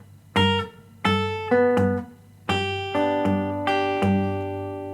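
Finger-picked rockabilly guitar lick, five clean plucked note groups ringing out in a steady, unhurried phrase, close and alone with no talk.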